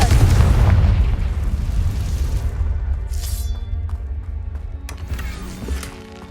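A loud blast from a Confringo fire spell in the Hogwarts Legacy video game: a heavy, booming explosion that rumbles and slowly fades, with crackling debris tails and no voices.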